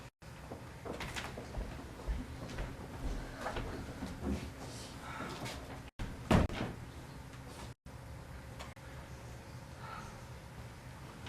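A door opens and bangs shut in a quiet room as a father arrives in a radio-play scene, a few faint knocks and clicks and then a sharp thud near the middle.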